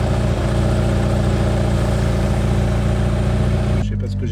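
A Mitsubishi Eclipse engine idles loud and close through its exhaust, a constant throaty rumble with a steady pulse that drops away abruptly near the end.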